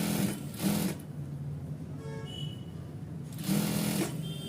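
A sewing machine stitches a seam on ankle-length stretch pants in two short, steady motor runs near the start and end, with a quieter pause between them.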